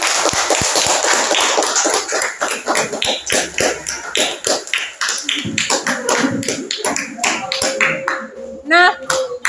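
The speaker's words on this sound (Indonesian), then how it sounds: "silakan berikan tepuk tangan" Students clapping in a geography classroom, a loose round of individual claps with uneven rhythm that thins out and becomes sparse, with brief voices and shuffling near the end.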